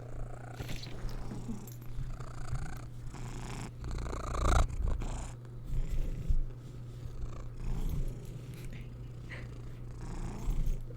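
A cat in a Baldur's Gate game purrs in a continuous low rhythmic rumble, close and steady, with brief rustles over it and no talking.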